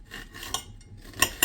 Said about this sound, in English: I'm going to cut up some of this onion here